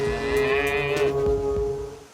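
Cattle being fattened artificially give a sustained low moo with a strong steady tone through most of the call, fairly close and loud, tapering off toward the end.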